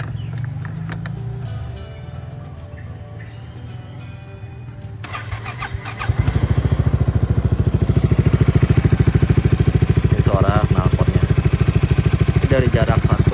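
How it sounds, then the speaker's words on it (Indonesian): A starter whirs briefly, then an already-warm touring motorcycle engine catches and settles into a loud, steady, rapid exhaust putter; a voice speaks faintly near the end. "Ini suara knalpot ya, gue starter. Ini mesin udah nyalain, jadi bukan cold start."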